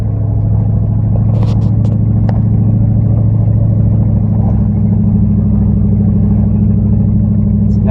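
A truck that serves as a living space grinds slowly up an old, overgrown mountain trail, its engine rumbling loud and steady throughout with a few faint clanks.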